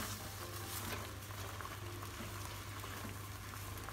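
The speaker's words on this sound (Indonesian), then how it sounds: "Sudah mendidih seperti ini" Water boils in a pot while cooking peanut sauce for rice-vermicelli fritters, a continuous soft bubbling and sizzling texture at low, even volume.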